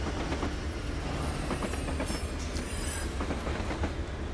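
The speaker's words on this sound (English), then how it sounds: "we stopped the entire train using the dynamics" Freight train in a Feather River Canyon train simulator game braking to a stop on dynamic brakes, a steady loud rumble of rolling wagons with faint wheel squeal and occasional clanks, no voices.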